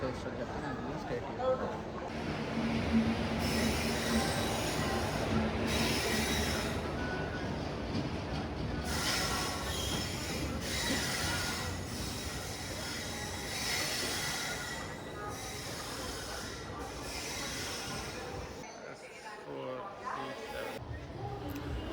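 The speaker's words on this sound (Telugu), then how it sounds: "ఇక్కడ లోకో రివర్సల్ అయ్యాక మన ట్రైన్ స్టార్ట్ అయింది" A passenger express train, the Narsapur–Nagarsol Express, pulls away from Vijayawada platform 1 after a locomotive reversal, with a steady rumble of rolling stock and intermittent squealing wheels throughout.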